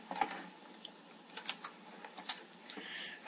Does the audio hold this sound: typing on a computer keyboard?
yes